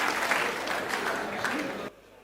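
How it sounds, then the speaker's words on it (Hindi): A hall audience in a Hindi comedy stage show claps together in a brief, dense round of applause that cuts off abruptly. "चलिए एक बार पूरा सदन ताली बजा के मुझे आशीर्वाद दे।"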